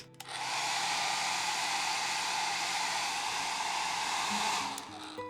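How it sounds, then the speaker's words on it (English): A hair dryer blows with a steady, loud rushing whoosh for about five seconds, then cuts off. "I'm going to get my hair dryer and let that happen."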